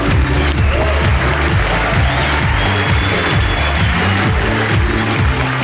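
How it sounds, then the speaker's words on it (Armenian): Studio audience applauding and cheering at a stand-up comedy show, a steady dense wash of clapping over a rhythmic musical backing, loud and sustained throughout. "եկեք դա հասկանանք ծափահարությունների միջոցով"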